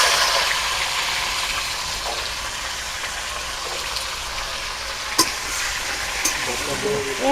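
Papaya, potato and beans fry in a pan for a rustic village-style shukto, a loud, continuous sizzle with stirring and a couple of sharp clinks of the spoon against the pan.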